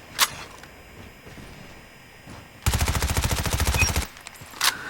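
The QQ9 gun fires in a video game as one rapid, sustained burst of evenly spaced, loud shots lasting over a second, with a few isolated sharp clicks before and after.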